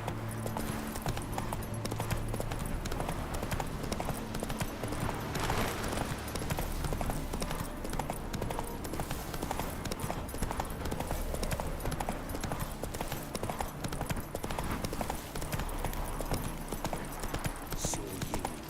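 In The Witcher, the hooves of Roach the horse clip-clop steadily and close at a brisk gallop, a dense continuous patter over game ambience and music.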